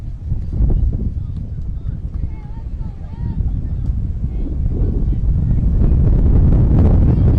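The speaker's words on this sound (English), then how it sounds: "As the wind starts to pick up once again." Wind buffets the microphone at an outdoor softball game, a steady loud low rumble that swells toward the end, with faint crowd and field sounds beneath.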